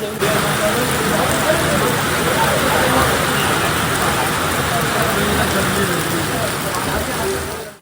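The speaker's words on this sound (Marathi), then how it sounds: "पाऊस बघा किती आलाय" Heavy rain hisses loudly and continuously, a dense, even downpour with no break throughout.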